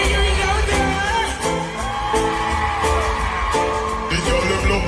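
Screams and whoops rise from a dense concert crowd at a dancehall birthday show, loud and continuous over heavy bass music with recurring peaks of cheering.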